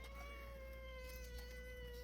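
A cat near a kittens' shelter gives a sustained, tonal meow, steady and fairly close, alone against a quiet off-grid backdrop without talk.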